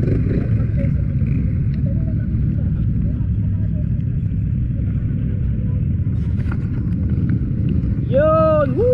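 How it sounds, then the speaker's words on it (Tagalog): A boat's powerful engine runs with a loud, steady low rumble and wind buffeting throughout, and a voice exclaims briefly near the end. "Malakas yung makina niya."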